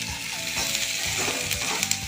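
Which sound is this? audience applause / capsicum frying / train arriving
capsicum frying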